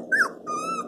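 A dog makes a short, soft vocal sound close by near two newborn puppies, a brief nasal whine rising into a tonal, growl-like note, with no talk.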